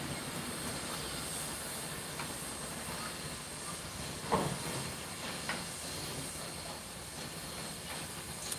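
Steam locomotive 4501 rolling onto a turntable in Summerville, Georgia, giving off a steady hiss of steam with a single metallic clank partway through and a few fainter knocks.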